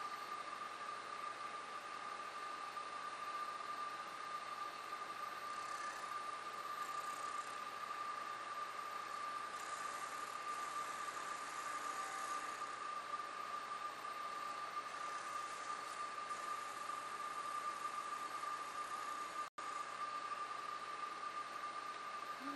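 A milling machine faces off the bottom of a workpiece, giving a low, steady mechanical drone with a thin sustained whine that runs evenly throughout, fairly quiet and without speech.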